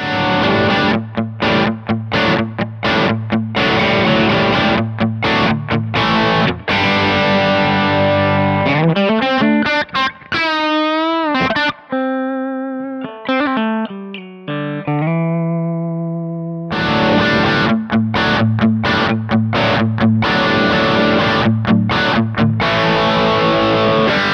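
Distorted electric guitar through Kemper amp profiles (65 Lowman amp pack) chugging, loud and driven, with a brief stretch of sustained ringing notes and bends before heavy riffing resumes.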